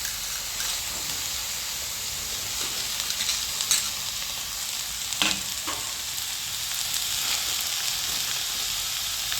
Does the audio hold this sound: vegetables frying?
yes